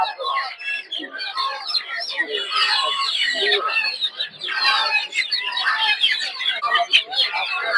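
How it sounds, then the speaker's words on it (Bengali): A flock of large native chickens at a market clucks and squawks continuously, loud and close, with a dense overlapping chatter of calls throughout. "এগুলো হচ্ছে বড় দেশি মুরগি"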